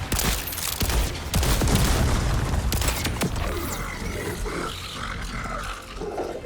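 Pistol gunfire in the shooter game Borderlands 4, a loud burst of rapid shots and booming impacts up front, then trailing off into quieter rumbling effects.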